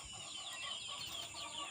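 Desi chickens, two-month-old chicks and a rooster, clucking softly and steadily together in a nearby coop, a dense, continuous murmur of calls.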